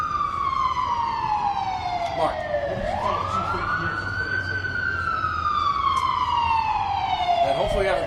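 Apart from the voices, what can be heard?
police sirens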